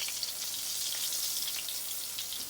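Chicken of the Woods mushrooms fry in hot oil, a steady, bright sizzle with crackling pops, close and continuous, with no voices over it.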